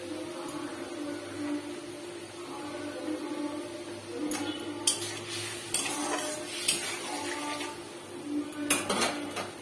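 Ingredients being sautéed and stirred in a pan while cooking a dhumur (fig) and potato dish, with steady metallic scraping and clinks of a utensil over a faint sizzle, growing busier toward the end, close and fairly quiet.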